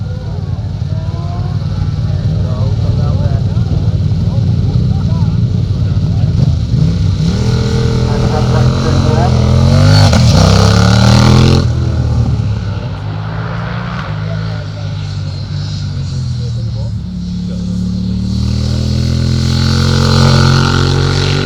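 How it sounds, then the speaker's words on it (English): A 1000cc Honda motorcycle races up a hillclimb course, its engine loud and close, with rising and falling revs as it accelerates and shifts through gears, then fades slightly before picking up again. "riding his 1000cc Honda"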